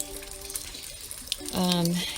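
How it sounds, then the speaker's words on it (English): Water mixed with Clonex is poured over freshly planted tomato seedlings; a steady, close splashing pour starts abruptly after a brief faint voice and continues to the end. "Put some Clonex in the water, and I am just going to water them"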